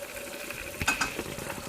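Thin shallot strips frying in a pan and being stirred now and then, a soft background sizzle with a couple of brief scraping knocks from the utensil midway.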